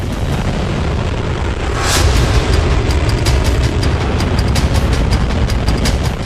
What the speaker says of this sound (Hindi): इतने पर भी मिसाइलों के नॉन स्टॉप ब्लास्ट किए जा रहे हैं